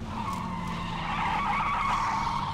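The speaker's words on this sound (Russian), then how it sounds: "Блин, машина начинает тормозить почему-то." A car in a video game brakes and skids with a sustained tire squeal over a low engine rumble. The sound is steady and fairly close throughout, with no voices.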